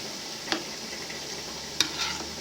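Chopped tomato being stirred into chicken biryani in a pan, with a steady low sizzle and a few soft scraping stir sounds.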